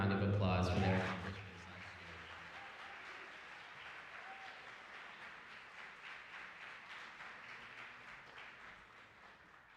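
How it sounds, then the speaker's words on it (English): An audience at a principal's reception applauds graduating grade 12 students, a brief loud burst of clapping at the start that quickly fades into a softer, steady murmur of clapping and crowd noise. "let's give them a warm round of applause for their accomplishments"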